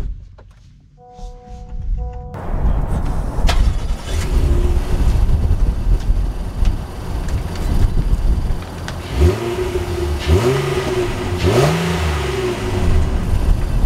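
A 2024 Honda Ridgeline TrailSport truck starts out after a short quiet moment, its engine humming steadily while driving, with several rising revs as it accelerates through gears, loud and close with no talking.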